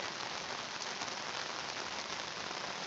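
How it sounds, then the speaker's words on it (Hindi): Steady heavy rain pours down continuously during a flood in a residential colony of Sialkot, a dense, even hiss with no voices and no breaks. "बारिश हो रही है और ये सैलाबी रेला गुज़र रहा है जी नाला पलखू से।"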